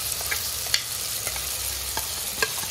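Soybean chunks stir-fried with soy sauce in a pan give a steady hissing sizzle, broken by occasional sharp scrapes and taps of the spatula.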